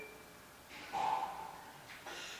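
A patient blows air out through the lips during a cranial nerve examination, a soft breathy puff followed by a shorter second exhalation, faint and close.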